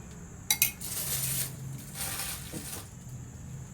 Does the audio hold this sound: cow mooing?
no